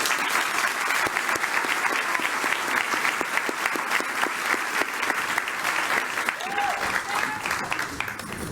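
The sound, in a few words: audience applause for award honoree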